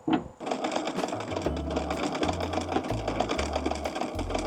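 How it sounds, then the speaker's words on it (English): A vintage sewing machine stitches a trouser leg, running as a steady, close mechanical whir with a quick rhythmic needle clatter and repeated low thumping surges as it starts and stops. "So I'll try to sew the other leg"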